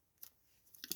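Paper being cut with scissors for a flip-pocket craft: two short, quiet snips, one near the start and a busier cluster of snips at the end, with no talking.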